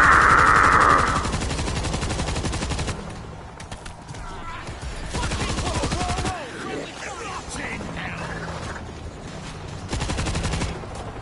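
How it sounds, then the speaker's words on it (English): Dense bursts of automatic gunfire from zombie fighting in World War Z keep going in waves, loud and close, with a high alarm-like tone at the start and game clatter between volleys. "Shoot them all."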